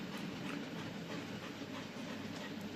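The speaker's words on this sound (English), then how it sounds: "You can hear the chuffing noise in the back." A model LNER B17 steam locomotive in apple green runs steadily, giving a soft, even rolling and chuffing noise with no talk.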